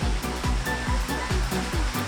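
A small waterfall at the source of the Narmada river, heard from close beneath the falling water, gives a loud, steady, broadband roar with a faint low rhythmic thumping running through it.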